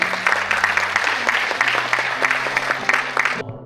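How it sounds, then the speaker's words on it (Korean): Audience applause at an international knowledge economy forum: dense, steady clapping from a crowd with a low sustained tone underneath, cutting off abruptly near the end. "박수 한번 쳐주십시오."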